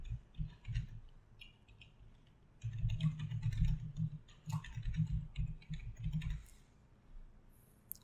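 An email address and password are typed on a keyboard in soft, uneven bursts of key taps with short pauses between them, heard near and fairly quiet, with no talking.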